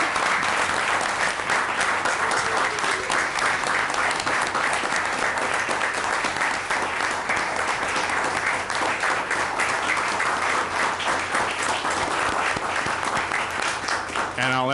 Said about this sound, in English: Let's give him a round of applause for us.